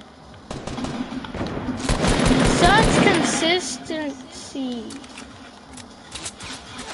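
Rapid video game gunfire rattles in quick bursts, building to a loud dense stretch in the middle and trailing off, with excited voices talking over it throughout.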